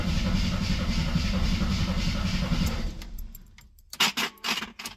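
A 1972 AMC Gremlin engine cranks with the starter churning steadily for several seconds without catching, then cuts off, followed by a few loud clunks and knocks.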